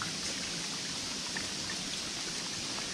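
Steady rain falls in Mawsynram, Meghalaya, close to a waterfall, a dense continuous hiss of drops and rushing water, with no voices.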